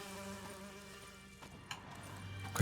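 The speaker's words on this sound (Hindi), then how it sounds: "मधुमक्खी का छत्ता है।" Bees buzzing around a beehive in The Witcher 3: Wild Hunt, a steady insect drone with several layered buzzing tones, fairly close and continuous, alone without talk.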